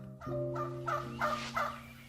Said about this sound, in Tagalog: Itong mga pabo na lang ang hindi pa naikukulong.